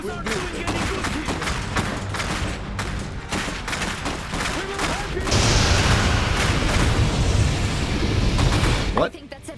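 Rifle gunfire in the video game Iron Harvest: a loud, dense barrage of rapid overlapping shots and booms that runs almost without a break, swelling heavier near the end.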